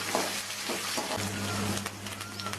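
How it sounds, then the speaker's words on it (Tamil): Onion, garlic and ginger sautéing in a pan during traditional village cooking, a steady close sizzle and crackle with a faint low hum underneath throughout. "கொஞ்சம் வெங்காயம், கொஞ்சம் பூண்டு, கொஞ்சம் இஞ்சி எல்லாத்தையும் சேர்த்து நல்லா வதக்கலாம்."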